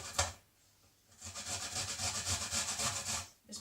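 Brussels sprouts being shredded with a knife on a board: close, rhythmic rasping cuts in a steady run after a brief single stroke, no voices.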